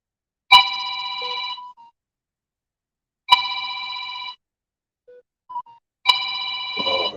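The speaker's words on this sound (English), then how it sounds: "It won't stop ringing." A telephone rings three times in sharp, evenly spaced bursts of about a second each, loud and close, with short faint beeps between the rings and no talking.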